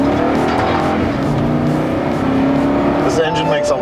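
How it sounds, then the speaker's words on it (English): A 2018 Toyota Sequoia SUV's engine accelerates hard up an on-ramp, a loud, sustained rising roar heard from inside the cabin, with road and tire noise underneath. "This engine makes a lot of sound,"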